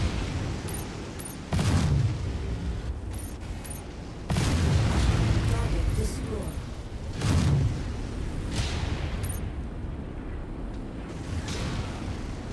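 In MechWarrior 5 combat, missile explosions land as heavy booming blasts with whooshing rushes. Three or four impacts arrive a few seconds apart over a continuous loud rumble, and a short synthetic computer voice speaks between them.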